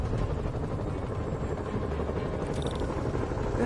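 Helicopter in Marvel's Spider-Man video game, a steady close rotor chop and turbine whine running throughout, loud and alone.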